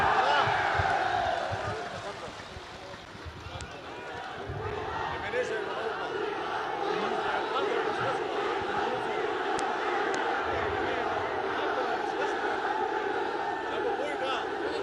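Large outdoor political rally crowd in Karak cheering and applauding for Imran Khan, a dense continuous roar of many voices and clapping that swells at the start, dips briefly, then holds steady and loud throughout.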